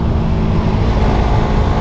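A Suzuki Satria FU fuel-injected motorcycle engine revs high around 8000 RPM on a mountain road, a loud, steady droning roar mixed with rushing wind, close and continuous.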